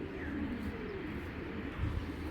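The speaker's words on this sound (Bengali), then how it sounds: "এটা বিআরপিএফসি ক্লাবের কবুতর" A racing pigeon from a Bangladeshi racing club coos softly at close range, a low murmuring call over a faint steady background hum, with no voices.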